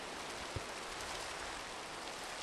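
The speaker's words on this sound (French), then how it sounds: "on s'est abrité de la pluie" Rain falling in Minecraft, a steady broadband hiss of rainfall filling the whole short stretch at low level, with one faint soft thud partway through and no talking.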